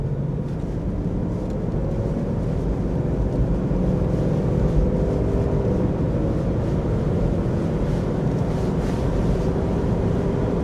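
Jeep Grand Cherokee WJ on Comforser CF1100 AT tires accelerates on the road, heard from inside the cabin as a steady, loud low drone of tire roar and engine that rises slightly in pitch without any talk.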